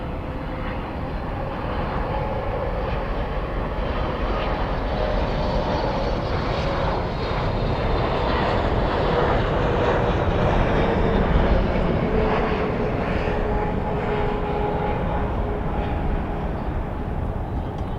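A heavy jet airliner landing at night on runway 18 right at Dallas/Fort Worth airport, its engines a loud, continuous broadband roar that swells slightly midway and holds steady throughout, heard from nearby with no talking.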